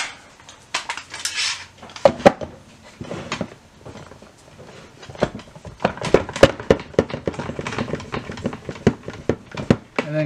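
A clamp being set and tightened around a Kydex sheath formed over a knife, a series of hard clicks, knocks and clatters in irregular bursts, close by, with pauses in between.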